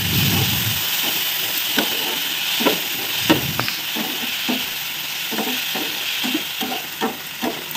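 Onions and green chilies frying in a pan of hot oil, a steady sizzle and hiss with light stirring clicks and scrapes at intervals, close by with no talk.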